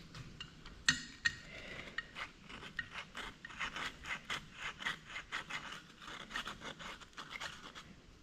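Metal filing or scraping to clean a burr off a Yamaha G1 engine part during a rebuild, a steady series of short rasping strokes at close range, with two sharper clicks near the start.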